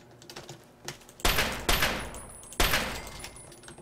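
Bursts of gunfire in Fallout 3: a few quiet clicks and thumps, then two loud, crackling volleys that each ring out and decay, the second about a second after the first fades.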